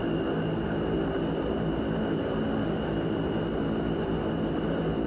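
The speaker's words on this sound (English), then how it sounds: "That's some noisy engines." Noisy aircraft engines running on the ground, a loud, constant roar with steady whining tones that holds unchanged throughout, close by with no pauses.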